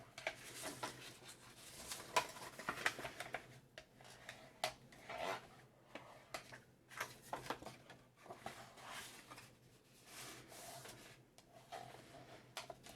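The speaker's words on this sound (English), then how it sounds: "So we're just going to burnish all of these score marks, make them nice and flat." Card stock score marks being burnished flat, soft repeated rubbing and scraping strokes at close range, faint and uneven, in a quiet room.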